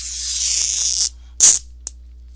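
A plastic sheet on the back of a 16 by 20 canvas gives a steady hiss of crinkling for about a second. It is followed by a sharper, louder rustle and one brief tap, close by with nothing else heard.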